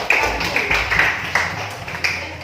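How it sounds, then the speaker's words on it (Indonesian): A small group claps in a classroom or lecture setting, irregular close-up hand claps with uneven taps rather than a full ovation. "Beri tepuk tangan untuk Pak."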